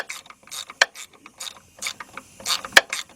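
A socket wrench ratchets while tightening a starter bolt on a 2007 Chevy Impala with a 3.9 engine, giving quick close metallic clicking bursts in an uneven rhythm.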